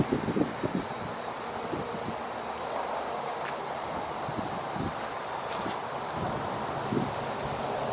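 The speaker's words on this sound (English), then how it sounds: "it's a little bit windy out here today" Wind blowing outdoors at a house exterior, a steady moderate rush with soft gusty buffeting and scattered rustles, no voices.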